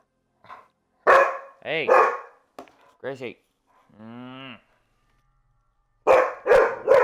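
Gracie, a pet dog, gives several close barks and a whining, moo-like howl indoors, mixed with a person speaking to her.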